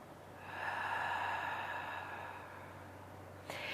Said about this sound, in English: So Ujjayi breath is also known as ocean breath or ocean breathing